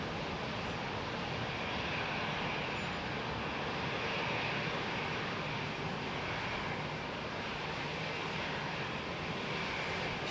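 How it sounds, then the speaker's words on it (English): A Qatar Airways Boeing 777 jet taxis out at London Heathrow, giving a steady, even engine roar and hiss that holds at the same level throughout, with no voices. "Qatar 777 making its way out."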